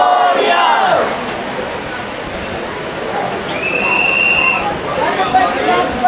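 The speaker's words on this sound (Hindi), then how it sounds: "बाबा के प्रांगण में हमको देखने को मिलती है कुछ इस तरीके से काफ़ी ज़्यादा भीड़" Dense crowd noise fills a Ganesh pandal temple courtyard in Indore, with a steady roar of many voices throughout and a brief high whistle-like tone near the middle.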